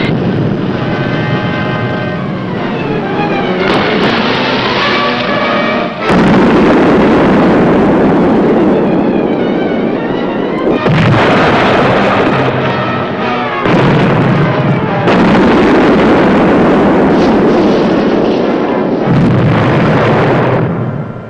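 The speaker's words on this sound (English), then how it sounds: "Depth charges were dropping in pattern now" Depth charges exploding around a submarine in a radio drama, heard as a run of loud, booming underwater blasts that come in repeated waves and roll on for long stretches with no pause between them.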